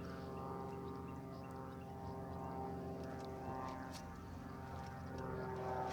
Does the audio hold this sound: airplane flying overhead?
yes